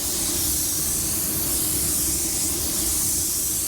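A spray gun spraying Ultra 9K clear coat hisses in a steady, unbroken rush of air and mist, close up and constant throughout.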